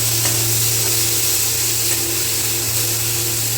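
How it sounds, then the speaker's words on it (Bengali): Hog plums (amra) fry steadily in a pan for a chutney, giving a continuous close sizzle with a low hum underneath and no talking. "দেখো আমাদের আমড়াটা কিন্তু খুব সুন্দর করে ভাজা হয়ে গেছে"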